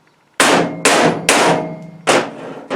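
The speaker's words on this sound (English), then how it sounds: "and then just grab a hammer" Four sharp hammer blows drive a threaded insert into wood, ringing out close and loud, spaced unevenly with short metallic decays between them.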